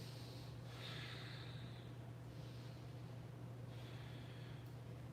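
Slow, deep breaths through the nose during a supine yoga twist, a few soft airy inhales and exhales, close but faint over a low steady hum, with no speech.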